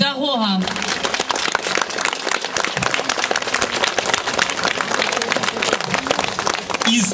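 Stormy audience applause at a regional talent concert honouring a teacher, dense sustained clapping from a large crowd filling the hall, loud and continuous for several seconds.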